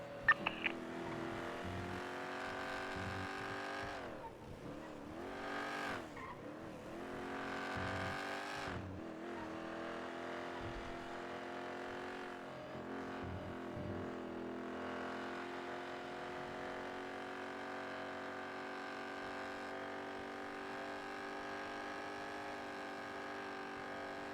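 A car engine in Grand Theft Auto V on the NoPixel roleplay server drones steadily as the car drives, its pitch rising and dipping with gear changes and revving, fairly quiet and with no talk.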